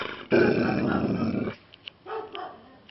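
A Labrador lets out a loud, rough growling bark up close at a hedgehog, followed by a few shorter, quieter grumbles and yips.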